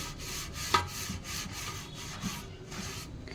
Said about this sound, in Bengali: আর এইভাবে আমি ভালোভাবে ঘষে নিচ্ছি ভেতরের অংশটাও ভালোভাবে ঘষে ধুয়ে নেবো